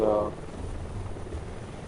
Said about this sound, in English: So the helicopter's there